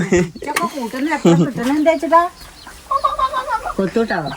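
Close, loud clucking and squawking from an agitated mother hen in rapid bursts after her chick is picked up, with a short pause midway before the calls resume.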